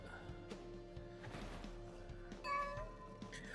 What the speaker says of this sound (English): Oh, there's a lucky cat over there.